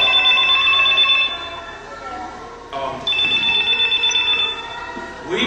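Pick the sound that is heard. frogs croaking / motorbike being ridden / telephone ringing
telephone ringing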